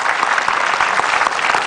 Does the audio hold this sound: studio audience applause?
yes